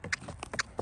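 Hooves of a Tennessee Walking Horse strike the ground in a quick, light rhythm of several soft, close beats during a brief stretch of its natural gait.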